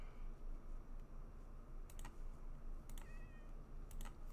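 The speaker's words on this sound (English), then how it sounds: "Did I just hear a cat?" A Minecraft cat gives one short, high meow partway through. It is faint under a steady low hum and bursts of rapid computer keyboard typing.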